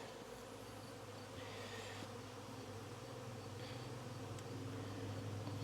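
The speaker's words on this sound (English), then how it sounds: "There's bees all over the inner cover." A dense, steady hum of honeybees swarming over a hive's inner cover during an inspection, continuous close buzzing with no voices.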